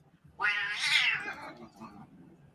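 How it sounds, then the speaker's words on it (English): A kitten attacking another cat gives a single loud, angry yowl lasting about a second, rising then trailing off into a lower growling mew, heard alone without talk. "The kitten attacked one of our other cats."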